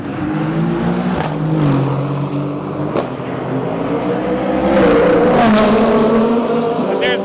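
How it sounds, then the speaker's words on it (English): Race cars roar past on a street circuit in Detroit, engines revving and swelling as they approach and fade, a continuous loud mechanical din with some background voices. "Nothing better than the sound of race cars around a city street circuit."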